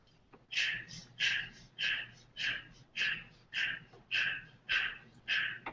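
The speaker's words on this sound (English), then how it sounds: "We're going to be doing this with the Bhastrika breath." Rapid forceful bellows breaths of Bhastrika breathing during a guided meditation session, a steady series of about ten sharp, evenly spaced exhalation bursts, close and loud.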